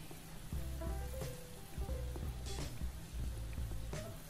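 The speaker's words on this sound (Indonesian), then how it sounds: "Ini kita aduk-aduk supaya nggak hangus." Bay leaves, kaffir lime leaves and galangal frying in oil are stirred in a pan, giving a soft, quiet sizzle broken by scattered scraping and clinking strokes of the spatula.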